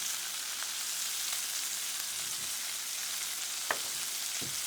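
Food fries in a pan with a steady, close sizzling hiss and a few faint stirring scrapes, including one sharper clink near the end, with no talk.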